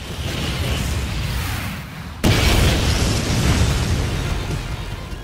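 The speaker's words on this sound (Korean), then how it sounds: "폭음과 함께 브랑슈가 침입합니다." Anime explosion effect: a low roaring rumble gives way to a sudden loud blast midway, followed by a sustained heavy roar of debris and fire.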